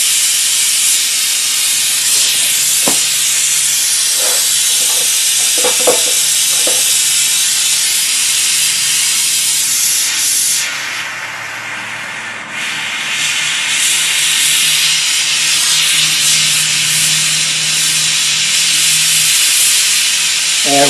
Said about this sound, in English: you want to hold a flame where the tip of that inner blue cone is right at the workpiece that you're heating